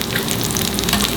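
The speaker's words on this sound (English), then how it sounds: "Okay, let it fry." Egg chops frying in warm coconut oil over a medium flame, a dense, loud, continuous sizzle with crackling bubbles close by throughout.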